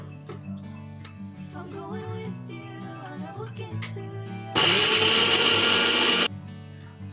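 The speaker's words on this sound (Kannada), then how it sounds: "ಫಸ್ಟಿಗೆ ಟೊಮೊಟೊ ರುಬ್ಕೊಳ್ಳಿ" A kitchen blender grinds tomatoes in one loud steady whir lasting under two seconds, starting abruptly and cutting off, following a stretch of background music.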